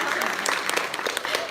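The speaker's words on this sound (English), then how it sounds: "you can clap if you want" Scattered applause from a conference audience, a mix of individual claps rising over a busy background, brief and moderately loud.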